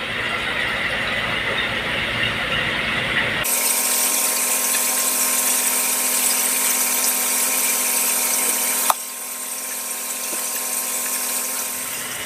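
An external skimmer machine for a crab farming system switches on and runs with a steady high-pitched whine and hum, continuous and fairly loud, with a small click near the end.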